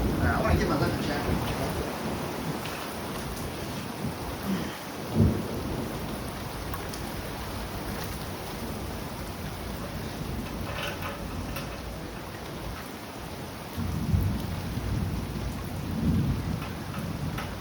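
Heavy rain pours steadily during a severe thunderstorm in the northeastern USA, broken by deep rumbles of thunder, one sharp nearby crack midway and another rolling burst toward the end, with faint voices underneath.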